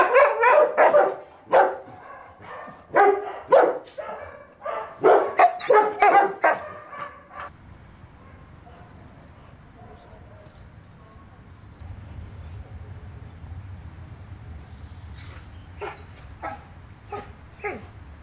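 A sociable dog barks in a quick, loud run of repeated barks at close range, then falls quiet before a few fainter, scattered barks follow.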